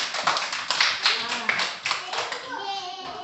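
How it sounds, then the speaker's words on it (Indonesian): Children in a classroom clapping together in a dense burst of quick hand claps, loud and close, with young voices calling out over the applause. "Oke, tepuk tangan."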